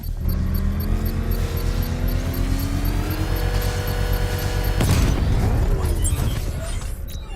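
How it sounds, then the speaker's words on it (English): A controlled bomb explosion in the video game Batman Arkham Knight: a mechanical whine builds under steady game noise, then a sudden loud boom and crackling debris follow near the end. "I can use the power winch to trigger a controlled explosion."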